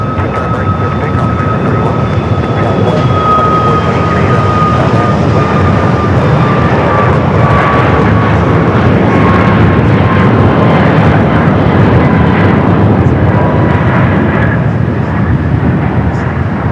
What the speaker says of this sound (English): Flight that just took off was American Airlines Flight 2880 heading to Sacramento, California, 737